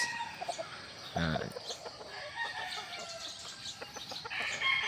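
Gamefowl roosters on a game farm crow and cluck, with one stronger crow early on and scattered calls over a busy farmyard background, moderately distant and without talk.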